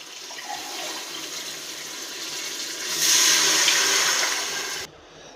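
Water poured into a cooking pot while making a rice dish, a steady splashing stream that swells louder partway through and then cuts off abruptly near the end, with no talking.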